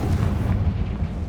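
A Confringo blasting spell goes off in the Hogwarts Legacy video game, a loud, sustained rumbling explosion with heavy low-end roar that fills the whole moment without a break.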